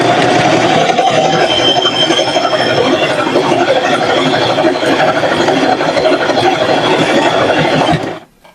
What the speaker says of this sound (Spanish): yo lo único que tengo que hacer es pisar mi pedal, solito el pie prensatelas va a estar manipulando la parte de abajo para que empiece a coser hacia atrás